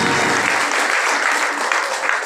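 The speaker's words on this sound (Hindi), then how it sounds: "एक बार जोरदार तालियां" Loud, dense applause from an audience at a religious discourse gathering in Tintgaon, Rewari, Haryana fills the whole moment with sustained clapping and no gaps.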